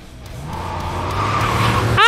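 Car in the video game Cyberpunk 2077 driving and skidding, a steady engine drone that builds in loudness with tire noise, ending in a sharp squeal; no talking over it.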